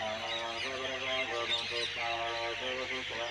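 Sparrows and other small birds chirp around farm fields with mustard crops, a busy stream of bright tweets mixed with a voice or tonal background sound.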